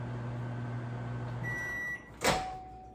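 Steady low hum of a microwave oven running with a hot dog bun inside, broken by a short clicking clunk near the end as the cycle stops or the door opens.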